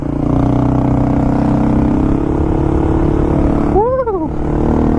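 A Honda Grom motorcycle engine on a back road: a close, steady drone that rises in a quick rev near the end and then settles back.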